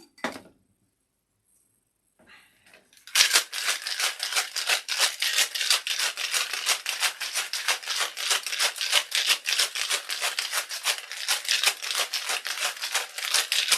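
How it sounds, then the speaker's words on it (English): Ice rattles hard in a cocktail shaker, a fast, loud, rhythmic clatter sustained for about ten seconds after a couple of brief knocks, with no talking. "I gave it a nice long shake to get it very cold."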